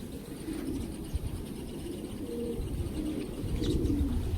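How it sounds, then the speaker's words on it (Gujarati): Pigeons cooing inside a deep well, low repeated coos blending into a continuous murmur with a hollow, reverberant quality, steady and moderately close with no voices. "અહીંયા કબૂતરા સરસ મજાના બેઠા છે કવામાં"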